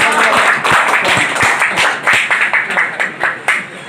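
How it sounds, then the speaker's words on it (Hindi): An audience at a village public gathering, marking the end of a local headman's hunger strike, claps steadily in dense, loud applause with many overlapping hand claps and a few sharper individual claps. "हाँ अब ताली भाई बजाइए"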